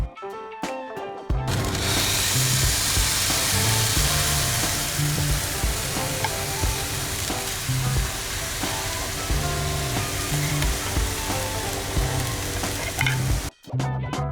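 Tri-tip steak hits a hot cooking surface with a loud, steady sizzle and frying hiss that holds up close, unbroken for over ten seconds before cutting off near the end.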